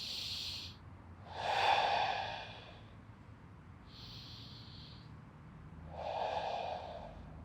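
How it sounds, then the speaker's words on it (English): Slow diaphragmatic breathing during a lower-back exercise on a ball: two deep, close, breathy inhales or exhales with quieter airflow between, alone with no talking. "Breathe into the ball using our diaphragmatic breath."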